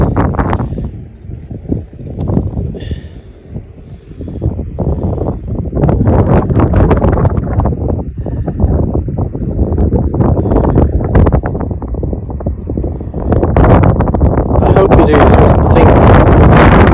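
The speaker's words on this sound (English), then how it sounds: "Very windy today." Strong wind buffets the microphone in loud, continuous gusts in rural England countryside, with rumbling low roar throughout and brief lulls early on.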